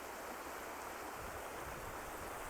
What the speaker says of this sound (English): This is the beautiful Verde River